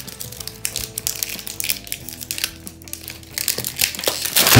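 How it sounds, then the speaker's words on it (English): Close, continuous crinkling and tearing of plastic and cardboard toy packaging, with irregular rustles, crunches and rips that grow louder toward the end, without speech. "It's so hard to open this. I'm just ripping everything."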